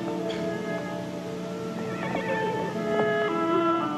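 A horse whinnies amid layered tonal sounds, with a high, wavering neigh rising partway through over a steady background.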